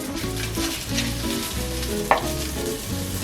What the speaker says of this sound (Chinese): 翻炒加那个盐会比较均匀